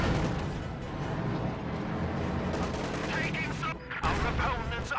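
Video game battle with a machine gun and PTRS anti-tank rifle firing: dense, continuous rattling bursts and heavy shots layered into a loud, unbroken barrage, briefly thinning near the end before surging again.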